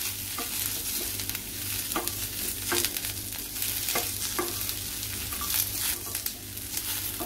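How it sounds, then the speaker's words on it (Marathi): Onion and spice masala sautéing in a pan for a stuffed egg masala, with a steady close sizzle and repeated stirring scrapes at a fairly regular pace, no voices over it. "मसाला परतून घेतल्याने खमंग त्याची टेस्ट येते चांगली, परतूनच घ्यायचं आहे, कच्चा नाही घ्यायचं आहे।"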